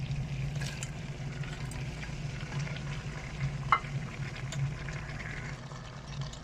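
Yogurt and tomatoes sizzle in a pan while chicken korma is cooked, a steady low frying crackle with a brief louder stir or clatter midway, close and alone without talk.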